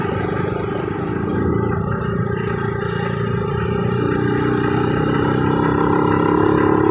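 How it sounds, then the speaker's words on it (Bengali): A Yamaha R15 v2 motorcycle engine runs steadily throughout, a continuous mechanical drone that holds level and grows slightly fuller toward the end, with no talking over it. "বাইকটার আওয়াজ হয়তো তোমরা শুনতে পাচ্ছ।"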